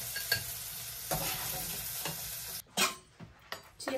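Okra (bhindi) frying dry in a pan, a close, steady sizzle broken by repeated scraping strokes of a spatula stirring it, with a sharper clatter near the end.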